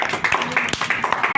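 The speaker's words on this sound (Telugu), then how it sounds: "క్లాప్స్ కొట్టండి." A crowd of people clapping together at a bottle game gathering, a dense, uneven patter of hand claps sustained throughout at close range, with voices mixed in underneath.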